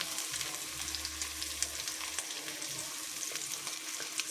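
Rava-coated mackerel fries gently on a tava over low flame, giving a soft, steady crackling sizzle with faint pops, fairly quiet and without speech.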